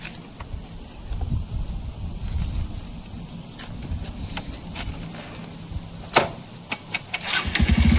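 A motorcycle being started, low engine rumble and sputter turning over, a sharp clank partway through, then the engine catching and rising into a louder steady drone at the end, with footsteps and shuffling around it.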